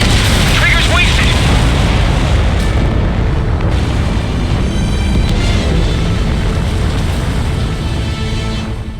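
A heavy, roaring missile explosion in Ace Combat 7 fills the clip with a sustained loud boom and rumble, while radio voices talk over it.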